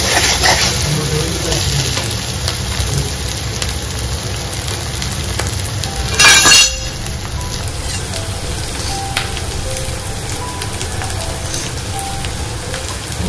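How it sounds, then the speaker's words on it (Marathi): Onion, tomato, coconut, ginger and garlic paste sizzles steadily in hot oil, a dense, continuous frying hiss with a brief louder burst of stirring midway. "तेलामध्ये छान परतून घ्यायची"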